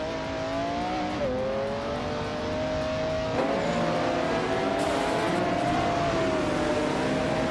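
Nissan and McLaren race cars alongside Vauxhall Cavaliers in a racing video game, engines droning and shifting pitch steadily as they rev and accelerate, with a continuous loud hum that swells slightly partway through and no talking.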